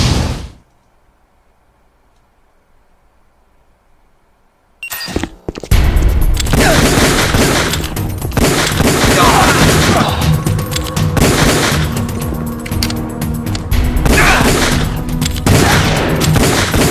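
Sustained heavy gunfire from the video game Metal Gear Solid: The Twin Snakes bursts in loudly after a few seconds of near silence and continues as a dense, unbroken barrage.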